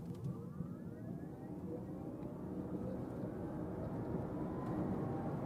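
An Audi Q8 e-tron 55 electric SUV pulls away under hard acceleration, a steady rising whine and road roar building continuously without gear breaks, heard from inside the cabin with no talk.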